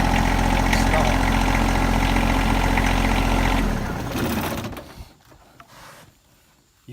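A John Deere riding mower engine runs at a loud, steady idle for several seconds, then cuts out and falls to near silence, with a few faint clicks after.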